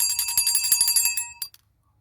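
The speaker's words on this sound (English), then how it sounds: "Got my hug bell here, ring for a hug." A small hand bell, a hug bell, rings in rapid bright strikes for over a second, then gives two quick final dings and falls silent.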